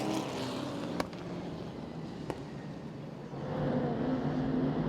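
Late model race cars circling East Carolina Motor Speedway during a 35-lap race, a steady distant engine drone that swells louder near the end, with a couple of sharp clicks along the way.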